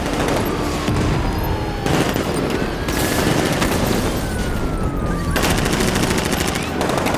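Rapid machine-gun bursts and gunshots crackle loudly in Batman: Arkham Knight, long dense volleys separated by short gaps.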